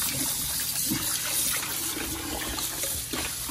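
Cold water runs steadily from a kitchen tap while raw chicken is washed under it, a constant close splashing hiss with slight shifts as the meat moves in the stream.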